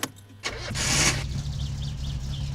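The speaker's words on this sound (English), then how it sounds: "This is where we start our car for real this time." Car engine cranking and catching in the game My Summer Car, a brief starter whir followed by a broadband burst as it fires, then settling into a steady low idle.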